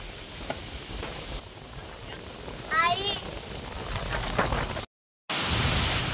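Steady rain hisses throughout, with a brief burst of a voice partway through and a short dropout near the end.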